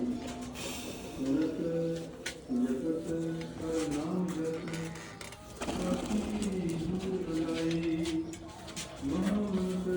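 Pigeons kept by a pigeon-flying hobbyist coo in repeated soft, rolling phrases close by, with brief pauses between bursts and some background noise.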